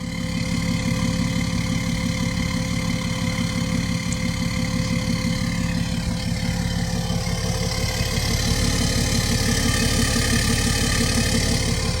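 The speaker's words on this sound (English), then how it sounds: "I'm going to throw in an exhaust clip right now" A tuned, emissions-deleted 2018 BMW X5 35d diesel SUV idles continuously with a deep, even exhaust rumble and rhythmic pulsing, close and steady for the whole stretch.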